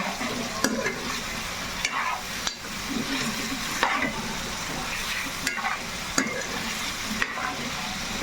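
Chicken frying in a pan with ginger garlic paste, stirred steadily with a spoon: continuous close sizzling with regular scraping strokes and occasional sharp knocks against the pan, no talking.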